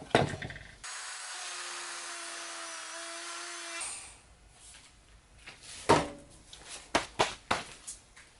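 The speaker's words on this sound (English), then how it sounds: "So I'm going to Dremel that out first" Dremel rotary tool grinding out a divot in a prop, a steady high whine lasting about three seconds, followed by handling knocks and scrapes.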